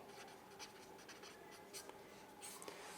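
Pen or pencil writing out a Class 10 math solution on paper, a steady close scratching with short stroke bursts throughout, alone with no talk.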